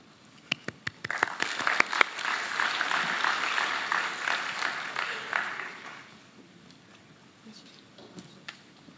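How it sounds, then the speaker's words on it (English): Audience applause at a conference opening session: a dense burst of clapping builds after a few sharp early claps, holds steady and moderately loud for several seconds, then fades out into quiet room tone. "another round of applause for everyone who is"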